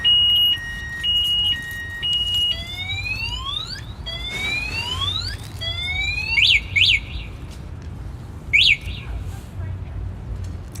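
Car alarm going off on a New York City street beside outdoor dining, cycling through warbling tones, rising sweeps and sharp chirps, loud and nearby over traffic rumble.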